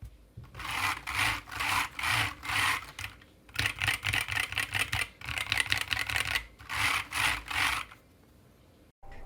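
Fast, loud clacking of optical mechanical switches on a 60% keyboard in several bursts of rapid typing, with short pauses between runs and a quiet moment near the end.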